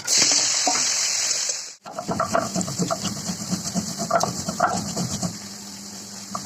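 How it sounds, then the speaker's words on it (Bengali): Potatoes sizzle in hot mustard oil with a bright, steady hiss for a couple of seconds. After a brief cut, quieter clattering and stirring noises follow, with no voices. "আলুটা ভেজে নেবো।"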